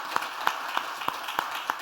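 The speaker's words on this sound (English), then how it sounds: "I would ask for a round of applause for all of us" Slow, sparse clapping from a panel session audience, six distinct claps at an even rhythm over a low room hum, fairly faint.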